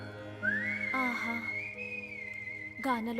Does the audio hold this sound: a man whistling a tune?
yes